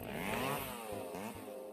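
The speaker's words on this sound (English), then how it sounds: "A chainsaw with around 100 decibels already reaches the upper stimulation range." A chainsaw runs close and loud, its engine note rising and falling in pitch as the throttle changes, filling the whole stretch alone without talk.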